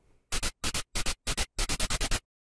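Five bursts of bright, full-range synthesized stereo pink noise hits, each a quick pair or cluster, the last a rapid run of five; punchy synthetic percussion, loud and dry, no voices.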